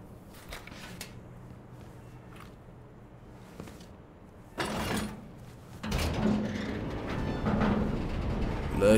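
A door opening in the horror game Still Wakes The Deep, with two heavy mechanical bursts, the second louder and trailing into a sustained grinding rumble over a dim ambient background.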